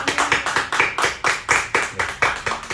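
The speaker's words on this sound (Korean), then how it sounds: "우리 환영의 박수, 환영의 박수 드리도록 하겠습니다" A small church congregation of nearly a hundred claps in welcome for two returning members at a Sunday service, a loud, rhythmic unison clapping with regular sharp beats throughout.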